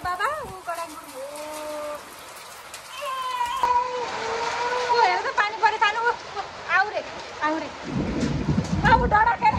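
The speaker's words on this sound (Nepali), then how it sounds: "हेर न कति पानी पर्यो, गडाङ्गुडुङ गडाङ्गुडुङ है" Heavy monsoon rain pours down with rumbling thunder, a dense, continuous wash of sound heard close by while voices talk excitedly over it.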